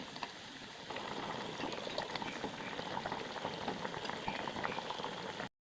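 Egg sambar bubbling at a steady boil in a pot, a dense, continuous close simmer of popping bubbles with a brief cut near the end.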